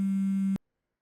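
A telephone tone heard while calling a relative, a steady low electronic beep held for about half a second and then cut off abruptly into silence, close and alone.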